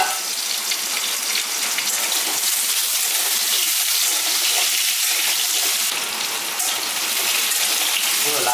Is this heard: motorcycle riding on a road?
no